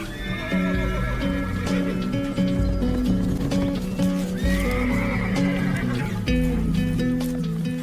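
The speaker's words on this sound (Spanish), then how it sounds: "ahí está su caballo" A horse neighs loudly and repeatedly, long whinnies rising and falling, with hoofbeats and dramatic music underneath.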